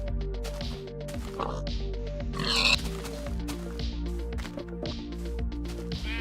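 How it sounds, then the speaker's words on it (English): Oinks from a pig in a video game come repeatedly over rhythmic background music, short grunting bursts scattered through the passage, with no talk heard. "Where's the pig coming from?"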